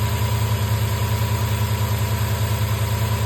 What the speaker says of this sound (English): After I replace this spark plug number 1